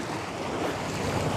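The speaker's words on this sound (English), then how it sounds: "And this is the Southern Ocean." Steady Southern Ocean surf and wind roar around a fishing boat, a dense continuous wash with no voices.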